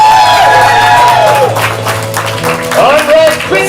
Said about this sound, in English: Applaud them as they leave